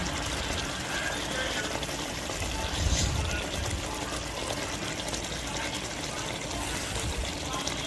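Steady bubbling and simmering of egusi soup in a pot, a continuous wet burble with a brief louder surge midway, no voices.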